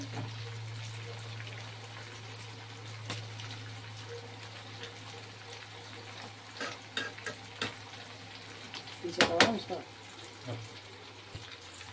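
Chicken curry fries in a pan for a Sunday chicken dum biryani with leg fry, giving a steady low sizzle throughout, with louder bubbling and stirring clatter near the end.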